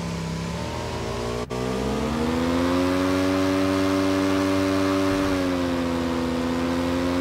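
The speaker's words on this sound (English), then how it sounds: "That was a random motorcycle." A motorcycle in a video game passes by, its engine note sustained and rising through a steady whine that shifts pitch midway, loud and close throughout with no talking.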